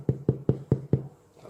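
Five hollow, evenly spaced knocks as a hand taps the bottom of a freshly baked sourdough loaf, close and distinct, followed by a short quiet pause.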